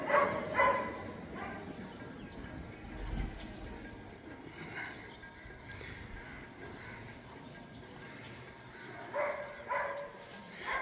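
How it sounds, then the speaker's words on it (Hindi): Dogs barking outdoors in India, several faint yips and barks scattered through a quiet background, distant, with brief low voices. "मुझे लगता है रोहित इधर घुमा रहा है जो कुत्ते भौंक रहे हैं।"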